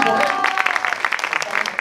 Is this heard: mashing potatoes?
no